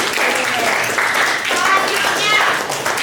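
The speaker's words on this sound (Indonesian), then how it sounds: "Tepuk tangan semuanya." Students in a university Islamic jurisprudence class break into brief group clapping, a busy patter of hands from several people mixed with overlapping chatter and voices throughout.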